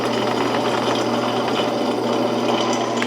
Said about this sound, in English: we are now powering the strip sander. Currently that's running at 875